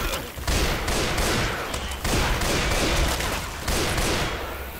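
Sniper rifle gunfire in a shooter video game: a few sharp, loud shots spaced roughly a second or more apart, each followed by a ringing tail over continuous noisy game sound, with no talk.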